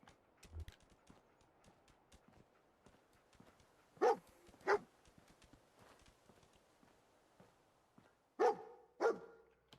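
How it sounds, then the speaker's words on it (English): A dog in Fallout 4 barks in two pairs of sharp, loud yaps, one pair near the middle and one near the end, over quiet scattered clicks and footsteps. "Dog"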